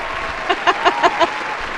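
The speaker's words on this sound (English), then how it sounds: "we get the applause going. If we could get it going. There we go." A few studio audience members clap in a sparse, evenly spaced rhythm, about five distinct claps standing out over quiet room tone.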